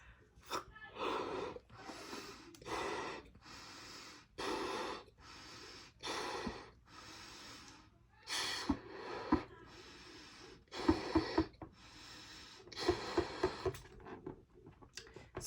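Someone blows up a rubber balloon by mouth: a series of long, forceful breathy exhales, each followed by a short quick inhale, close and fairly quiet, with no talking.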